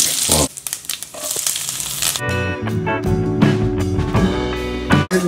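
Mustard seeds and cumin dropped into hot oil, a close, loud crackling sizzle with popping bursts and some clattering at the pan, continuing for several seconds.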